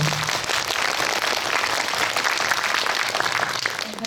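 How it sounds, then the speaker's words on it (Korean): An audience at a film screening and Q&A in a Lotte Cinema World Tower auditorium applauds in a steady, dense wash of clapping that holds throughout without a break. "박수를 주셔서 저도 그만 말씀드려요"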